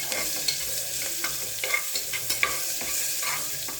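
Onions sizzle in oil with turmeric in a pan for sambar while a spoon stirs them, giving steady close frying crackle broken by repeated scraping strokes.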